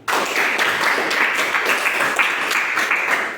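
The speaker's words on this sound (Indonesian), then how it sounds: "Tepuk tangan dulu." Classroom applause as students clap for a classmate's answer, a dense burst of many hands clapping together that fills a few seconds at steady volume before easing off.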